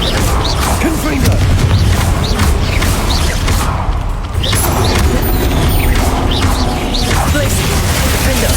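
Repeated Confringo fire-blast spells in the Hogwarts Legacy video game burst amid dense, loud combat effects and a continuous music bed, with a voice speaking over the action.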